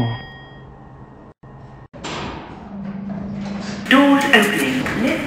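Lift doors in Roblox slide open with a rumbling mechanical whir and a thud, followed by a brighter tonal chime or ring near the end.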